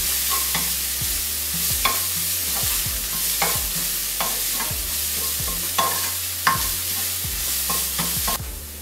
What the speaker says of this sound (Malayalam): അരപ്പിട്ടതിന് ശേഷം അതിൻ്റെ പച്ചമണം പോകുന്നിടം വരെ ഇളക്കണം